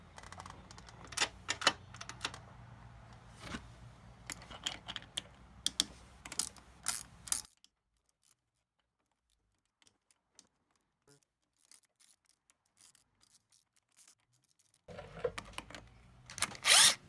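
A hand socket wrench with a 10mm socket ratchets off the spring bolts of a Suzuki LTR 450 ATV in quick clicking bursts, up close, with a long quiet pause before the clicking resumes.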